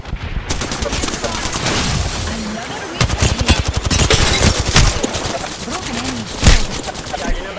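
Rapid automatic gunfire in the video game Apex Legends, with close, loud bursts of shots and a few heavier impacts, continuous over busy game sound.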